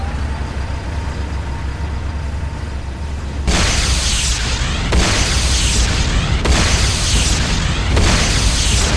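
A building explodes in Command & Conquer: Renegade, a GDI weapons factory. It starts with a low rumbling hum, then a loud roaring blast breaks in a few seconds later and is followed by repeated heavy booming surges.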